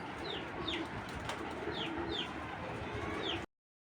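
Racer pigeons coo softly in a loft, several short rolling calls repeating over a busy, rustling background.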